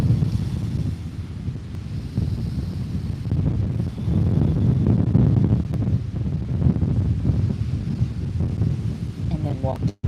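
Blustery wind buffeting the microphone on a beach, with a low rolling wash of surf underneath; steady and fairly loud, swelling in the middle, with a voice speaking faintly at points.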